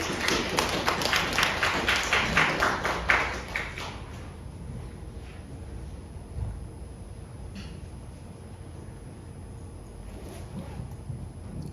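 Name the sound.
congregation applause at church service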